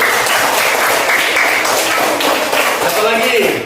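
A classroom of students claps together briefly at a teacher's prompt, a loud, dense burst of hands with some taps and thumps mixed in.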